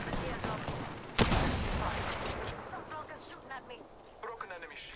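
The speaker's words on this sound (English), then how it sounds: "The charge rifle works different now." Loud charge rifle shot in a video game, a sharp blast followed by a sustained ringing discharge, with gunfire clatter and players talking over it.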